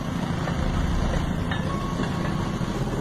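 A train rolls along an old, overgrown railway track while a car waits stopped nearby, a steady loud rumble and rattle running continuously throughout with no talk.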